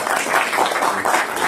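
A church congregation applauds teachers during an Easter Sunday worship service, a loud, close burst of many hands clapping in uneven surges for a moment.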